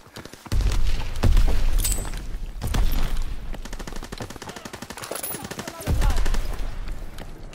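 In a WWII-era shooter, heavy automatic gunfire rattles steadily throughout, punctuated by several deep booming blasts, including grenade explosions, loud and close amid chaotic combat.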